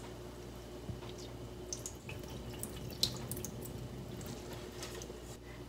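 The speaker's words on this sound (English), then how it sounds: "Now drain the water of the rice." Water draining from cooked rice being prepared for taimeshi, a steady close trickle and dripping into a sink with soft splashes throughout.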